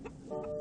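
A flock of chickens gives a short, faint burst of clucking, with a soft cluck followed by a sustained, tonal call.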